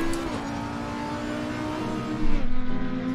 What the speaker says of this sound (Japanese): このワトキンズグレンを走ったのはね、アウディの R8 です